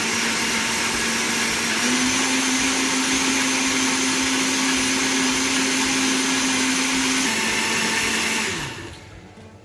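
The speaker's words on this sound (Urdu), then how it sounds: "یہ دیکھیں یہ بلینڈ ہو گیا ہے" A kitchen blender whirs through a batch of mint lemonade with water, sugar, salt and lemon juice: a loud, steady motor drone that shifts pitch slightly partway, then winds down at the end, no voices.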